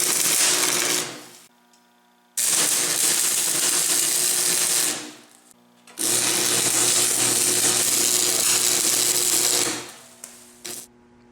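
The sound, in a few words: stick welding a steel plate with welding rods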